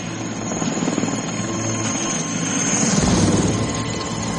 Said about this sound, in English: we've seen now a helicopter flying around